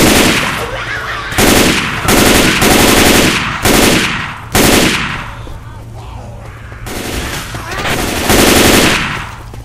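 Rifle gunfire in Left 4 Dead 2 rattles in loud, rapid bursts, several close volleys separated by short pauses, with sustained firing stretching through the clip.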